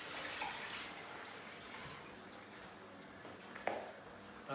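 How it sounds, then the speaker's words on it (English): Running tap water over hands at a kitchen sink while preparing shortbread, a steady splashing wash at low level that carries through the whole stretch, with a brief louder splash near the end. "firstly I'll just wash my hands to make sure everything's"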